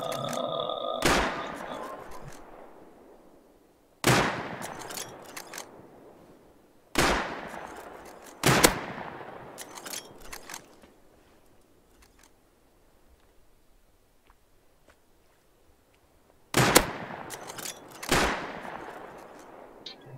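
Gunfire in the video game Rust on an oil rig, single loud sharp shots spaced irregularly over about twenty seconds, each with a decaying tail, with no talking over it.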